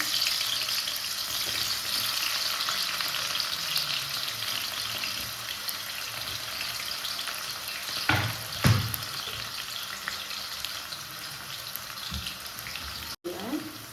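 Sliced onions frying in hot oil for chicken biryani, a steady close sizzle running throughout, with a couple of brief clanks and a voice speaking faintly in the background.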